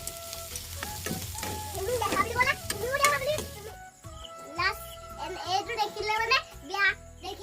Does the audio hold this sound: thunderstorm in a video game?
no